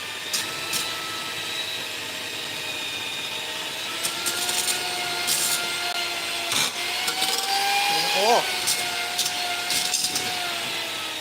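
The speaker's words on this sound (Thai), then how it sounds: "ปั่นให้เนียนนะคะ" A motorized mixer whirs steadily as choux pastry dough for éclairs is blended until smooth, a continuous droning hum with shifting pitch and a few clacks, and a voice is faintly heard at times.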